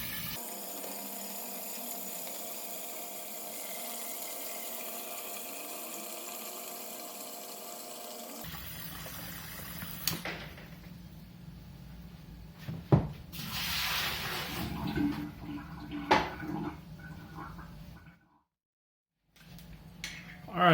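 A Samsung refrigerator's water filter dispenser runs water into a one-gallon jug, a steady rushing pour for the first stretch, then shifting to irregular splashing, clunks and handling noises before a brief silence near the end.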